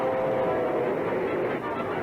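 A train in a short film gives a steady, loud rumbling roar that continues without a break for about two seconds.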